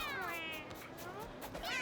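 Kittens meow in the video game Mewgenics, several wavering, sliding cries close together over a busy background, with a faint voice underneath.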